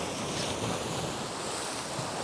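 Rough sea churns and breaks against a rocky shoreline in a big patch of badly disturbed water, a steady loud roar of surf with wind buffeting the microphone and no voices.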